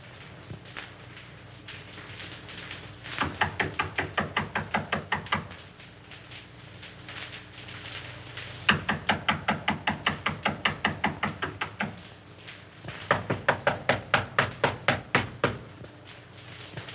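Knocking on a door in an old film drama, in three separate bursts of rapid, sharp raps, each run lasting a couple of seconds, heard close and without talk.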